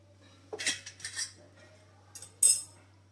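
A metal fork pokes and clinks against soft cooked amla in a steel pot, with a few sharp, quiet taps in short clusters over a faint background hum.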